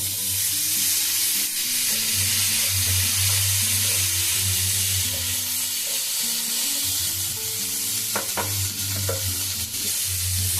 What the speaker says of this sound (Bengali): এখন দেবো ক্যাপসিকাম আর টমেটো যে আমি কেটে রেখেছিলাম সেগুলো